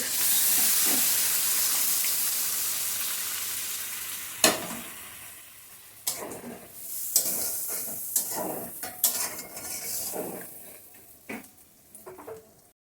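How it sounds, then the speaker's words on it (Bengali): Thickened milk poured into a pan of sizzling pointed gourd curry: a fading hiss of hot oil, then sharp splashes and stirring clatter, with a soft steady frying sizzle underneath, close and moderately quiet. "এখন দুধটা দিয়ে দিচ্ছি"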